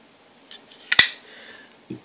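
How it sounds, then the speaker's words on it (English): A Strider folding knife snaps open or shut with one sharp metallic clack, preceded by a faint click and followed by a small soft knock, heard close up against near silence. "when you open and close it, it just feels and it sounds really solid. Just that clack sound."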